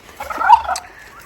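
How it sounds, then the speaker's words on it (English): A single loud, close turkey gobble comes from a flock of turkeys grazing outdoors among goats and geese, a quick warbling burst lasting about half a second that fades out. "Turkeys came out to graze."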